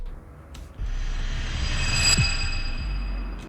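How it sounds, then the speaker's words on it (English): A deep booming hit lands, its low rumble blooming into a long, reverberant swell that slowly fades, with brief airy swishes around it. "So what I did was I used this deep hit,"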